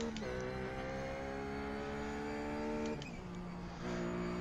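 Ruf GT3 race car in the iRacing game at Bathurst, its engine note rising steadily under acceleration, dropping briefly at a gear change and then climbing again.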